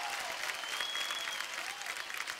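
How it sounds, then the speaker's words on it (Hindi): A studio audience at a televised dance competition gives steady, sustained applause after a performance, a dense wash of many hands clapping at moderate distance with faint whistles over it. "जोरदार ताली एक बार"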